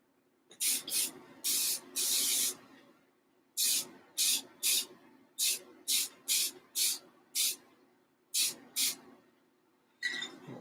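Short bursts of aerosol sealer sprayed onto a USS Oklahoma BB-37 battleship model, a dozen or so hissing blasts in uneven groups with brief pauses, close and fairly loud over a faint steady hum.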